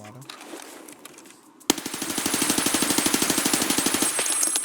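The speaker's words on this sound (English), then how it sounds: "Switch to full auto." Submachine gun in Escape From Tarkov opens with a single sharp shot, then a long, loud full-auto burst of rapid, evenly spaced cracks runs to the end with no talk.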